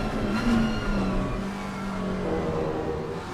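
Race cars roar around the Misano circuit in Assetto Corsa Competizione, with a steady, high-revving engine drone and overlapping engine tones as cars run close together.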